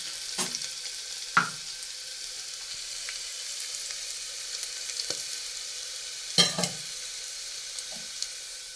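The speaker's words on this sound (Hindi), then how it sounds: "थोड़ी सी हल्दी डालूंगी, और इनको मिक्स करेंगे।" A spoon stirs turmeric into a spice mixture of crushed garlic, coriander powder and chilli powder, making soft steady scraping with a few sharp clinks against the pan, close, quiet and without speech.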